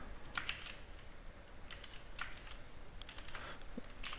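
Rapid bursts of typing on a computer keyboard while entering a search term into a Yahoo search box during a coding session, key clicks clustered in several quick runs with brief pauses, close and moderately quiet.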